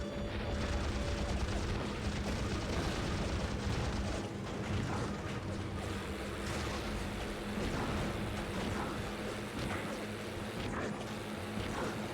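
Bombs exploding around a Japanese cargo submarine and PT boats in a naval combat video game, heard as a continuous rumble of booms, machinery and water churning that stays fairly steady and moderately loud throughout.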